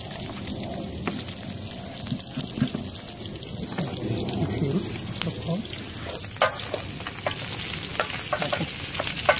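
Lamb intestine kokoreç cooks over a charcoal grill, giving a steady close crackling sizzle with scattered sharper pops and spits throughout, with no talk.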